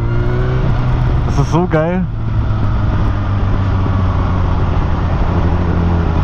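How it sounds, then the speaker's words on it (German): Yamaha motorcycle engine running at about 2000 rpm, below full throttle, a steady loud drone heard from the rider's position throughout, with a short voiced exclamation from the rider partway through. "ich fahre gerade bei 2000 Touren und das war noch nicht mal Vollgas"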